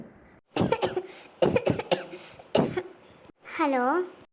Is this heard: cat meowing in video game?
no